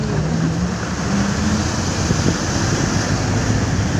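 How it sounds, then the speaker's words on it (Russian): Floodwater washes over a street curb in Komsomolsk after a heavy September downpour, a steady, loud, rushing wash of water and wind noise that never lets up. "Волны ходят по бордюру."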